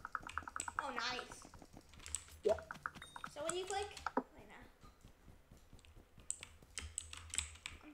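Rapid clicking in a video game, a dense run of light, fast taps spread throughout with a voice talking over much of it.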